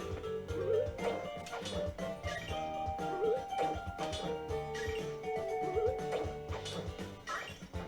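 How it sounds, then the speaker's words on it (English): A dog barks in Zelda: A Link Between Worlds on Hero Mode, short yaps scattered through several seconds over steady, busy game music. "Dog."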